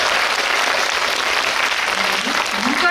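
Loud, dense audience clapping at a Korean film screening with a Q&A, sustained throughout, with faint voices rising near the end.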